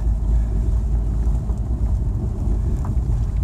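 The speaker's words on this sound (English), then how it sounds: "It's blowing pretty good." Strong wind blows steadily at a sailing club on a chilly day near a parked boat trailer, a loud continuous low rumble buffeting the microphone with no pauses.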